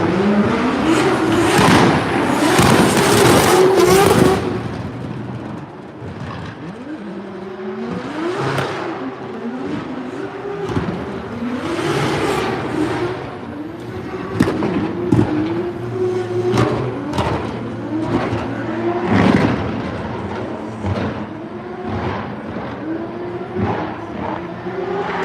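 A drift wagon at Drift Masters Germany practice revs hard and loud, its engine note sweeping up and down again and again as it passes close, then trails off into bursts of throttle and tyre noise.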